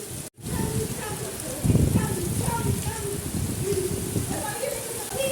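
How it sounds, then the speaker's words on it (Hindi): Rain falls during a summer vacation outing, a continuous close patter across the whole stretch, swelling slightly partway through. Faint scattered voices and background sounds sit under the steady hiss. "पहले क्लिप में हम बारिश में भीग रहे हैं।"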